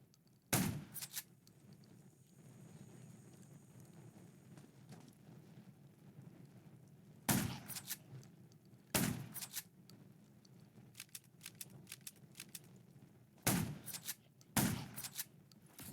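Sharp gunshots fired in the zombie survival game Undawn, a handful of loud separate bangs spaced several seconds apart over a low rumbling ambient background, no talk.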